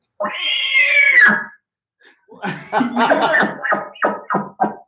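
A man vocally imitates an elk bugle, one long rising, squealing call lasting about a second, followed by a short burst of talk after a brief pause.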